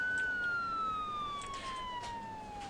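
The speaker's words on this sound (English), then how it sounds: "Looks like we're getting the BLS ambulance." A BLS ambulance siren from the Emergency 4 video game wails as a single clear, slowly descending tone, fairly loud and alone, with faint clicks and bursts in the background.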